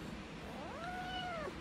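A lone house cat gives one rising, drawn-out meow of about a second, moderately close but quiet, over a steady background hiss.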